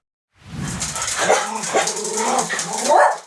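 Dogs in a house where more than ten dogs live together with cats and kittens, giving a close, continuous run of yelping, whining barks that rises to a louder yip near the end.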